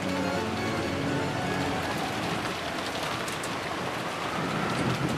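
Steady rain pours in a video game scene, driven by wind, with a dense continuous hiss of drops on surfaces that stays loud and even throughout, no voices.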